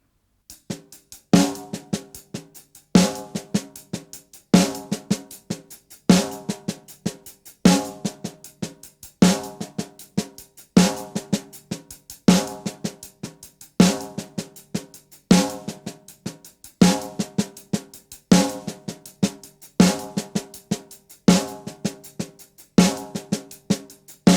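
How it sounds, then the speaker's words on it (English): Paradiddle sticking played on hi-hat and snare drum, with accents on beats 2 and 4 and the other strokes kept quiet; a steady, repeating close-miked drum pattern with no talking. "play the paradiddle pattern between my right hand and left hand on the hi-hat and snare drum"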